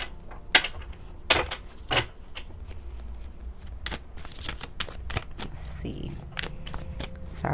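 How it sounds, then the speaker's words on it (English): Tarot cards shuffled close by, a run of crisp riffling bursts and sharp slaps at irregular intervals, with soft rustling in between and no talking. "Sorry, it's telling me to shuffle more."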